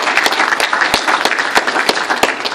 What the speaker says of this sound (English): I would like to take a moment to give a round of applause to my team